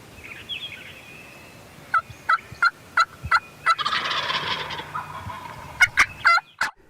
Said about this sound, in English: You hear me hit these turkeys on the way in.